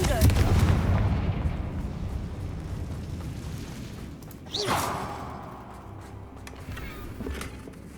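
A Confringo fire spell blasts in Hogwarts Legacy, with a sharp whooshing burst near the middle over a dense, rumbling battle din, while a voice speaks.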